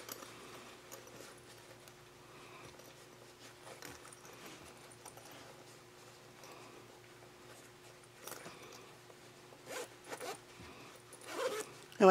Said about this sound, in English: I like to test my zipper out a few times.